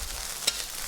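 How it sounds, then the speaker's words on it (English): Hokkien fried rice stir-fried in a wok over high heat, a steady hiss of sizzling with one sharp scrape of the spatula midway, close and fairly quiet. "After a final 2 minutes of stir frying on high, we'll turn off the heat."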